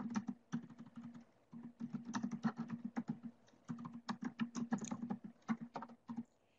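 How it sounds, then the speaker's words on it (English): Rapid typing on a computer keyboard, a question being entered during an online session: irregular bursts of close, crisp key clicks with short pauses between phrases, no voices. "typing my question"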